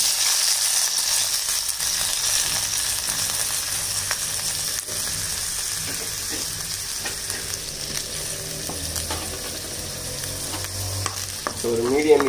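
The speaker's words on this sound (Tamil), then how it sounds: "இதில் நம்ம எடுத்து வச்சுருக்க சின்ன வெங்காயத்தையும் தக்காளியும் போட்டு நல்லா வதக்கணும்" Small onions and tomatoes sauté in hot oil in a kadai for fish kuzhambu, giving a continuous close sizzle with frequent stirring scrapes and no voices.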